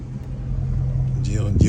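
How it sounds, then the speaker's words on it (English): A car pulls up and settles into a parking spot, a steady low engine rumble running throughout with a brief rise near the end, close by under mostly quiet surroundings. "I'm gonna put my car right here."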